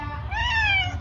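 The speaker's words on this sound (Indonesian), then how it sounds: "Ini kucing saya." A single drawn-out meow from a pet cat, close and clear, rising and holding in pitch before trailing off, with a low hum underneath.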